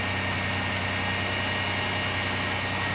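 A 1993 Chevy Lumina APV engine idles steadily at close range, a constant even hum with a faint regular ticking pulse running through it and no voices.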